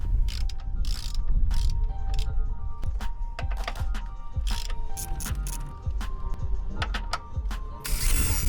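Ratchet wrench working the subframe bracket bolts on a VW MK6 GTI, with rapid close clicking pawl strokes in bursts, short pauses between pulls and a louder metallic rattle at the end.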